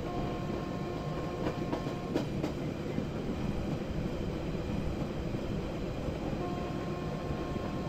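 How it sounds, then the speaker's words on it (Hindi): An Indian Railways train with brown coaches running on the outer line of parallel tracks, a steady loud rumble heard from inside with faint rhythmic clicks from the rails. "हमारी जो ट्रेन है ना बाहर वाली पटरी पर चल रही है"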